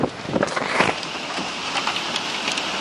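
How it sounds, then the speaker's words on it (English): Rain falls steadily during a sand storm, a broad hiss with scattered close spatters and drops, loudest early on and then settling into an even wash. "It's raining right now."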